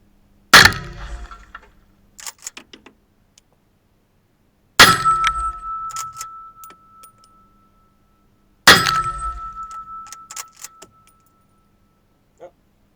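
A Remington Model 25 carbine in .25-20 fires three separate shots at a steel gong target, spaced about four seconds apart; each sharp crack is followed by a clanging metallic ring that fades away.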